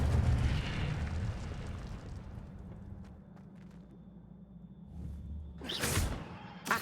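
A fire spell bursting in a wizard video game: a rumbling, explosive whoosh that fades, then a sharp bright flare near the end, loud and alone.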